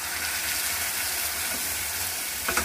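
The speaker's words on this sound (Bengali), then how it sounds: "সেদ্ধ করা আলুটা এর মধ্যে দিয়ে আমি ভালো করে আবার খানিকটা নেড়ে নেব" Boiled potatoes are stirred into spices frying in a pan, giving a steady close sizzle with a brief scrape of the spoon near the end.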